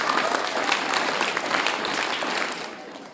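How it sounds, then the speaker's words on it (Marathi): Students at a school book exhibition during a sports week break into loud, sustained clapping, a dense burst of many hands together that fades slightly toward the end. "एकदा जोरदार टाळ्या तुमच्यासाठी."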